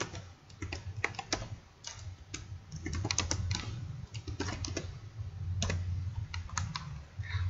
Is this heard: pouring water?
no